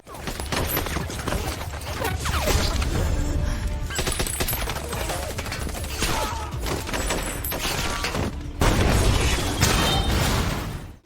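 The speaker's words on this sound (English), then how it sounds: "A fierce firefight breaks out, including a sniper duel across the landscape." A film firefight with a sniper duel across open landscape: dense, continuous automatic gunfire and rapid shots, mixed with heavy booms and explosions, roar loudly for about eleven seconds with a brief dip near the middle.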